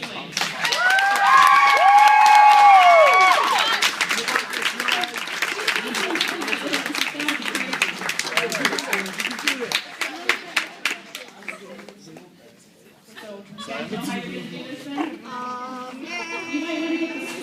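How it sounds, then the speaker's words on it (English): A school spaghetti dinner crowd bursts into loud applause and cheering that tapers into scattered clapping, followed by excited voices and shouting. "So huge round of applause for Miss Ewing."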